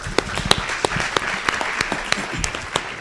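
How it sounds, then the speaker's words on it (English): Audience applause for mock trial participants, a steady patter of many hands with a few sharper individual claps standing out, fairly close and with no talk over it. "I think we should give them a round of applause."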